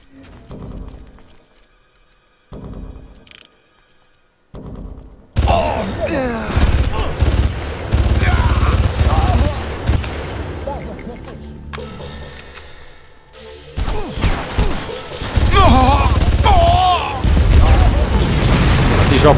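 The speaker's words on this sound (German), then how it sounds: "Und da hat scheinbar jeder Gegner irgendwie Raketenwerfer dabei und die schießen da ununterbrochen." Rockets and gunfire from enemy launchers in the Far Cry shooter boom in rapid, near-continuous bursts. Loud, dense volleys follow a sparse opening, with a voice speaking now and then underneath.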